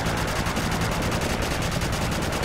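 Continuous rapid automatic gunfire from a Call of Duty 4 multiplayer match rattles loud and close in an even, unbroken stream of shots.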